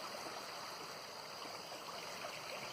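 A creek flowing under a road and through cattails near Thunder Lake, a faint, steady rushing of water with no voices.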